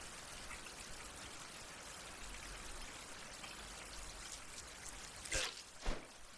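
Steady rain from an all-day downpour hisses softly and continuously at a distance, with a couple of sharper splashy bursts near the end.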